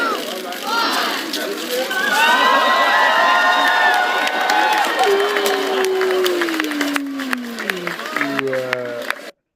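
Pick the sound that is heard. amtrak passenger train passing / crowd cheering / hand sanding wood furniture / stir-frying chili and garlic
crowd cheering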